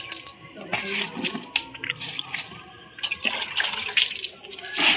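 Water splashes and pours by hand onto a garden bed of ginger plants outdoors, with an uneven, continuous rush and spatter broken by brief louder surges.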